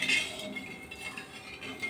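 A spoon stirs thin sugar syrup in a pot, soft scraping and light metallic clinks, close and quiet with no talk.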